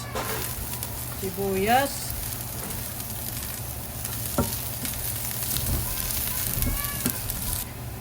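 Garlic and onion sauté in a pan at the start of a beef kaldereta, giving a steady close sizzle with occasional stirring clatter, while a person talks briefly over it.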